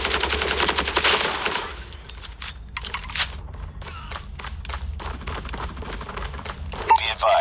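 Rapid automatic gunfire from a sentry gun in a Call of Duty match, dense bursts loud at first then continuing in steady repeated volleys, with voices talking over it.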